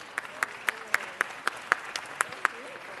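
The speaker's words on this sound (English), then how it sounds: "Let's give them one more round of applause." Sparse, evenly spaced hand claps at a steady slow rhythm, about ten sharp claps over a faint room background at a city council meeting, fairly quiet and distant.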